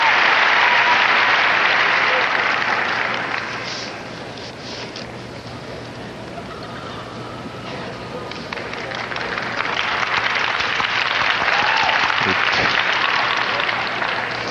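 Arena crowd applauding herding group dogs at the Westminster dog show, loud sustained clapping that dips in the middle then swells again, with a commentator speaking over it.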